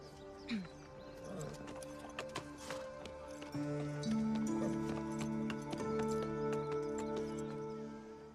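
A horse's hooves clip-clop at a steady walking pace, fairly close, joined partway through by a sustained droning hum.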